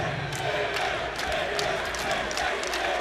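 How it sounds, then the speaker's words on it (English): Basketball arena crowd noise during free throws at a Colgate versus NC State men's game, a loud, steady roar of many voices filling the space, with commentary faintly underneath. "Crowd trying to affect Mr. Woodward."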